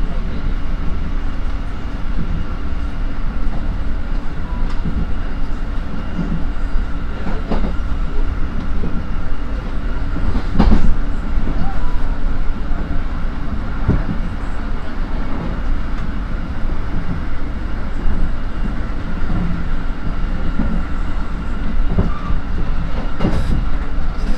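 A commuter electric train (KRL) rumbles past close by on a four-track line, low steady roar with rhythmic clickety-clack of wheels over rail joints and occasional sharp metallic clanks.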